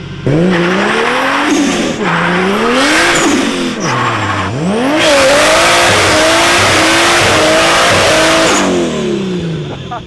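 A loud car exhaust roars as the engine accelerates hard, pitch climbing and dropping with each gear shift, with short pauses between pulls.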